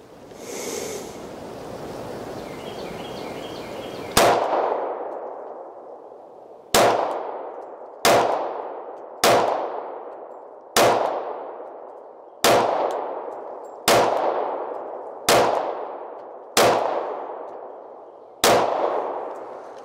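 A Sig P320 pistol fires ten shots at a target, sharp loud reports spaced irregularly about one to two seconds apart, each with a short ringing decay, after a brief stretch of steady background noise.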